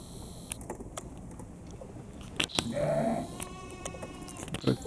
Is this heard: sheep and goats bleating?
yes